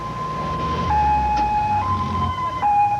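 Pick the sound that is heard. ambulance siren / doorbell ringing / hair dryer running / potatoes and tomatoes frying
ambulance siren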